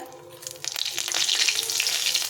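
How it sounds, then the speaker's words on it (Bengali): Dried red chili and bay leaves hit hot oil, crackling and sizzling loudly after a short quiet start and keeping up a steady frying hiss, with no talk over it. "এখন এই তেলে আমি ফোড়ন দেবো একটা শুকলঙ্কা ফাটিয়ে দিলাম আর দুটো তেজপাতা"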